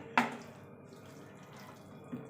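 Tap water runs as 600 grams of raw chicken is rinsed clean in a kitchen, with one brief splash near the start and a second, softer one near the end over a steady low trickle.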